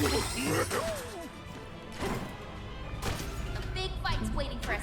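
Smashing and crashing impacts from the Donkey Kong Bananza video game, with repeated broadband bursts and whooshes layered over game music while a person talks throughout.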